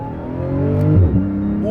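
A car engine revs up under acceleration while shifting through gears, a rising whine that drops at the shift and climbs again, loud and close inside the cabin.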